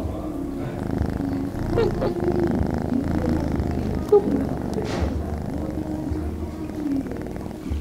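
A cat at an animal shelter purrs steadily and close, a low continuous rumbling hum with faint background noise.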